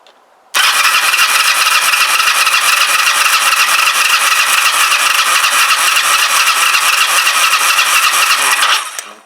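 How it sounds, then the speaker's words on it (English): A hot Kawasaki GPZ500S engine is turned over with the throttle wide open during a compression test, a loud, steady, buzzing drone that starts abruptly and runs unbroken for about eight seconds before cutting off. "The engine is hot, very hot, so we are going to fire this up now, throttle wide open"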